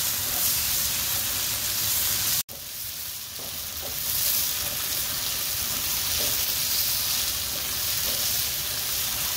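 Shallots and onions sauté in a hot pan, giving a loud, dense hiss and sizzle that runs continuously, broken once by a sudden brief dropout, with faint stirring scrapes beneath.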